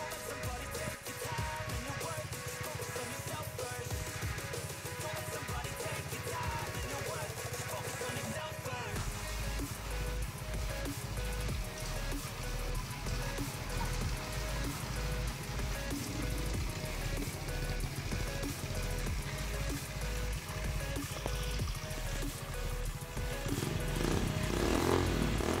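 Engine of a used Honda Vario scooter with its stock exhaust, a steady, deep bassy idle running throughout at close range, with a slight rise near the end.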